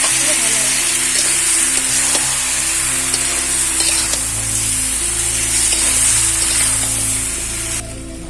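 Garlic, ginger, cumin and chili pastes sizzle loudly in a pot of village-style country chicken curry cooked over a clay stove, a dense continuous frying hiss close up, with a steady low hum running underneath.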